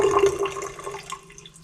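Hot water runs and splashes from a tap at an Alaska homestead, loud at first and then tapering to a softer trickle, close by and with no one talking.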